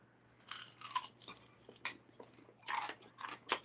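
Crispy pork belly being bitten and chewed in the Philippines: a series of quiet, close crunches and chewing sounds in irregular bursts, with no talking.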